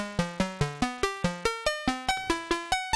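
A Make Noise DPO oscillator in a modular synth plays a stepped sequence of about fourteen bright, plucky notes at a quick even pace, each with a sharp attack and short decay, with the pitch climbing and dipping.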